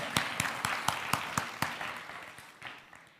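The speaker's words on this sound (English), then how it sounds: "And please applause." A small audience at a conference talk on an NPM library gives sparse, evenly spaced claps that fade out after a few seconds.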